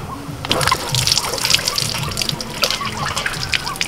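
Water runs and splashes from a tap as hilsa fish is washed, a steady close trickle and slosh with light drips over the whole stretch, no talk.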